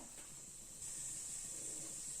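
Whole spices (cinnamon, star anise, cardamom, cloves, fennel seed) frying in ghee in a pressure cooker, a faint steady sizzling hiss that grows slightly louder partway through, with no talk.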